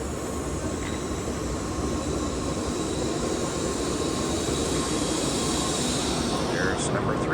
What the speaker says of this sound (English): This is my train going to Tokyo.